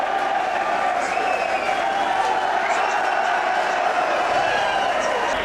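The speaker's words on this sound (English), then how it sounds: "a big round of applause, folks, for your Derby champion" Crowd at the Irish Greyhound Derby final applauding and cheering champion greyhound Susie Sapphire, a steady wash of distant clapping and crowd noise filling the whole stretch evenly.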